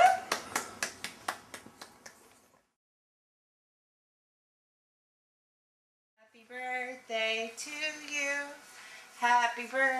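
Family members at a birthday gathering clap hands in a quick run of about eight sharp, close claps, then fall silent for a few seconds before voices break into singing.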